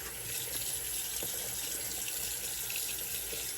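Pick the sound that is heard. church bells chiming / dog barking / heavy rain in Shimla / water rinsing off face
water rinsing off face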